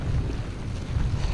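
Strong wind roaring across Brighton Beach, New York, in a blizzard at about 10 degrees, a loud continuous buffeting rumble with no pause.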